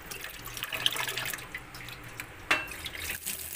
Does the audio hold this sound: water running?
yes